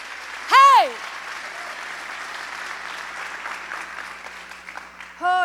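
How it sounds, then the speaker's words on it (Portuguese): A church congregation claps along in a steady, moderate wash behind the room sound, with brief loud vocal shouts at the start and end. "Se você crê, aplauda Ele."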